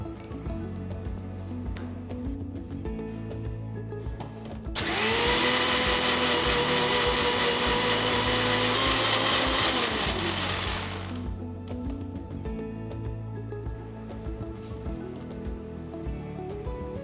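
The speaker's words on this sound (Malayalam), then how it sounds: "ഉഴുന്ന് നന്നായിട്ട് അരച്ചു" Mixer grinder with a small jar grinding soaked urad dal for Pesaha appam batter, a loud steady whirring motor burst of about six seconds that starts abruptly and winds down, set against quieter background music.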